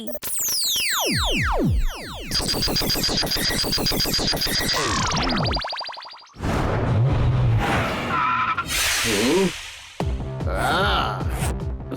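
Cartoon car sound effects for the Super Speedo car: sweeping whooshes and screeching skids, then a busy, loud mix of revving, squeals and zany effects, with brief voice-like sounds.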